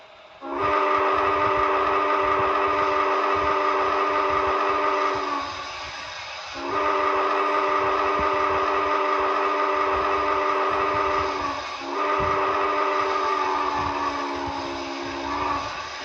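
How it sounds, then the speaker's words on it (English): The steam whistle of an HO scale model Southern Pacific GS4 locomotive's sound system blows in three long, loud blasts with short breaks between, rich and chordal, over a low mechanical rumble. "Pretty nice whistle."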